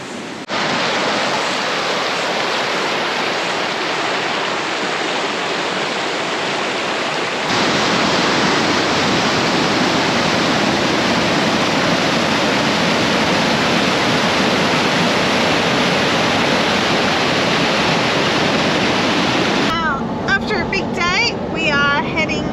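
Gardeners Falls, swollen with high water, pours over in a constant loud roaring rush, heard close up, with the hiss growing fuller partway through and a brief burst of wind or handling noise near the end.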